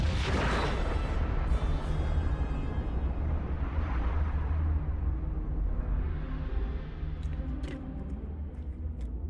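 A Miranda class starship explodes in the Star Fleet Command 3 game with a loud, rumbling blast that rolls on and swells again before tapering off, followed by a few faint sharp ticks at the end.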